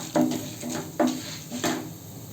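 Urad and chana dal with cumin being stirred in a pan for coconut-free coriander chutney, heard as four distinct scraping, clinking strokes of a spoon against the pan at a steady rhythm, close and moderately loud, with no voices.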